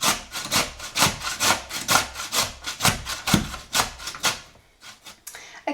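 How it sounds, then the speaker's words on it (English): Raw potato rubbed against a hand grater for homemade potato crisps, a brisk rhythmic rasp of about a dozen close strokes per few seconds, tapering off near the end with no talk. "So I'm just going to continue now until all the potato is nicely grated."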